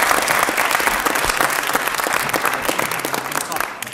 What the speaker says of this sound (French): Vous pouvez l'applaudir encore une dernière fois.